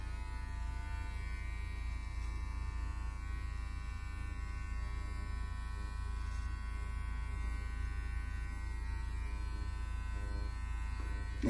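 Electric trimmer buzzing steadily while tapering and cleaning up a beard, a continuous close, even electric hum with slight shifts in tone as it moves through the hair, no talking.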